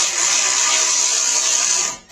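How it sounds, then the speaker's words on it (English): A power tool whirs steadily at close range as it tightens a screw during repair work on a Troy-Bilt Bronco, with a continuous buzzing drone that cuts off abruptly near the end; nobody talks. "I want to now tighten up that screw there."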